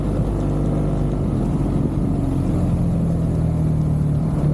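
A steady, loud BMW motorcycle engine drone with rushing wind, sustained at an even pitch as if riding along at cruising speed through Gangwon Province, South Korea.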